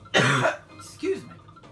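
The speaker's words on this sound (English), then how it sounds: "I've still been coughing a little bit lately." A person coughs once, a harsh burst of throat noise, followed by a softer throat-clearing sound close to the mic, with quiet room background and no talk.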